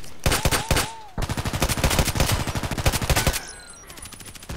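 Glock 17 DEVGRU pistol shots fired in the shooter game Contract Wars, a quick run of loud, closely spaced cracks in bursts, with game effects between them and no talk.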